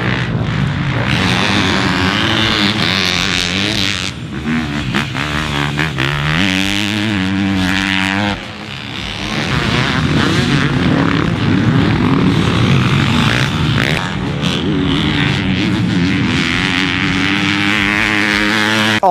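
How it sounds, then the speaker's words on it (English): Engine of a 2021 KTM 250 SXF four-stroke motocross bike being ridden, a loud, steady buzzing drone with rising and falling revs throughout, a brief dip midway, no talking. "Today, we get our first chance to ride the 2021 KTM 250"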